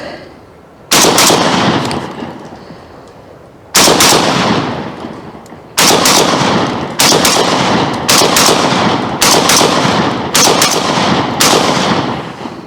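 Loud, close blasts from a 12 gauge shotgun fed from a DefencePort 20-round drum, fired outdoors on a cold day in spaced pairs and singles, each boom ringing briefly before the next, with no talking.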